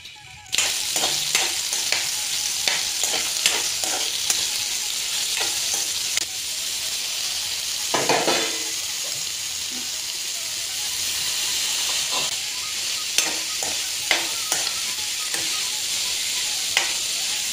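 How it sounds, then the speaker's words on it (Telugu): Boiled mixed vegetables dropped into hot oil and frying: a loud, constant close sizzle and hiss starting abruptly, with repeated scraping and clinking of a stirring spoon against the pan throughout. "దీంట్లో మనం ఏవైతే ఉడికిచ్చామో వెజిటబుల్స్ని ఒకసారి నూనెలో ఫ్రై చేసి పెట్టుకుందాం"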